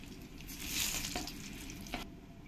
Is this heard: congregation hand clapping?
no